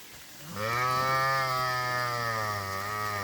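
A large village cow gives a single long, loud, close moo that rises quickly and holds steady for nearly three seconds.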